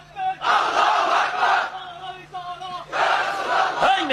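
A large crowd chants religious slogans in unison, two loud roaring bursts of massed voices with a short pause between, sounding close and energetic.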